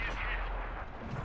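Artillery fire in the World of Tanks video game, a heavy booming blast with a rumbling low tail that fills the short moment, loud and dense, with game noise and a voice underneath.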